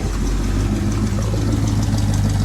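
A 1975 Ford F-100 pickup truck's engine running steadily after starting, a loud, close, continuous low rumble with even idle pulsing throughout and no voices.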